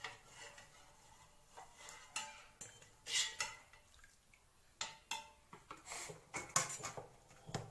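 Boiled lobster is lifted out of the pot onto a plate, with quiet clinks and scrapes of utensils against cookware, a few sharper taps and faint dripping between them.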